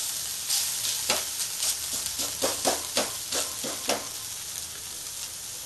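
Chita pitha, Bengali style, frying in a pan after being flipped, giving a soft steady sizzle with a run of about ten quiet, rhythmic scraping strokes from a utensil, then settling into gentle hissing.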